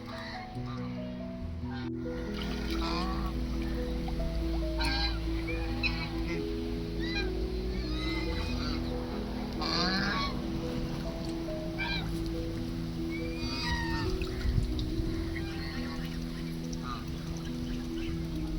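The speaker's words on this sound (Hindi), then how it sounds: "और अभी मिश्रा धीरे से बतख पकड़ने जा रहा है" A flock of ducks being herded at a hotel quacks and honks together over a steady low hum, busy and continuous, with faint human voices mixed in.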